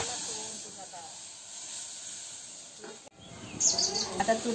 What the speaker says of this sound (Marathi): आता चुलीवर मी ते तेलामध्ये फोडणी दिली